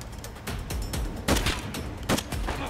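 Gunfire in Escape from Tarkov, with several sharp shots cracking out in a loose volley near the middle and end. The shots stand over steady in-game background noise.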